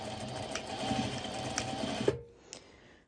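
A sewing machine stitching bindings on pole dance bottoms runs in a steady buzzing whir for about two seconds, then stops with a clunk and a faint click.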